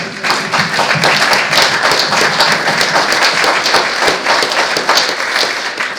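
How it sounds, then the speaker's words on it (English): A hall audience at a Bexhill-on-Sea question-and-answer meeting gives a loud, sustained round of applause, dense overlapping claps held steady and close for the whole stretch. "So I'd like to give them a round of applause."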